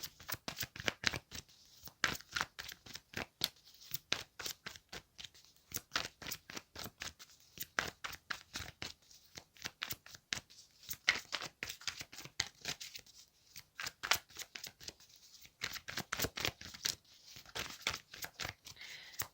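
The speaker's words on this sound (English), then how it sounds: "Feel free to fast forward past the shuffling." Continuous riffling and shuffling of tarot cards, close and crisp, in rapid bursts with brief pauses between them, no talking.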